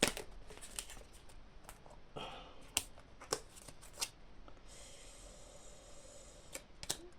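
Oracle cards are shuffled and drawn in a quiet room, with a series of soft, brisk riffling and slapping bursts and light papery rustles, close by and fairly faint, and no speech.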